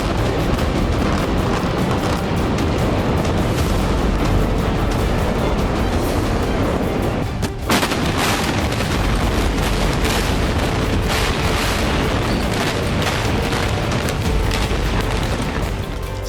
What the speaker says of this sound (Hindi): सेक्टर 93A के ट्विन टावर में एक के बाद एक 5 विस्फोट हुए।